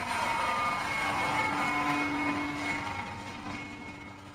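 Machinery in a ship's engine room, near the main engine and workshop, fills the space with a loud, steady drone and humming tones that fade slightly toward the end.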